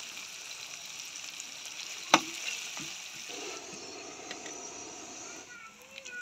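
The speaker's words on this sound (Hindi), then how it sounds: "प्याज को ब्राउन करना है अच्छी तरह" Onions and cumin frying in a pan for chicken haleem make a steady, soft sizzle throughout, with a sharp clatter of a utensil near the middle and some faint background voices.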